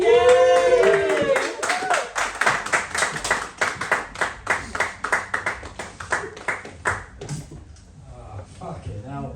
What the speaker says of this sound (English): Ladies and gentlemen, put your hands together for my good friend and a new father, Rob.